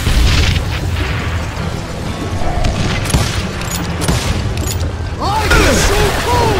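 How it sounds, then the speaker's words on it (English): Dynamite blasts in the Western shooter game Call of Juarez Gunslinger, set in a mine: loud booming explosions and bursts over continuous rumbling noise, with game voices mixed in. "Who said you could throw dynamite?"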